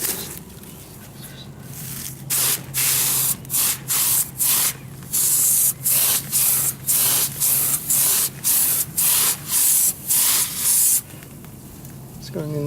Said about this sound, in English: I had coil cleaner spray all over me, but this is non-acidic